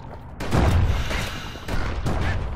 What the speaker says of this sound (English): those explosions should help